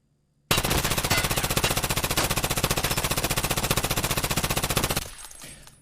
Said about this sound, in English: I do want to try out the MCX real quick. Let's see what the MCX is like.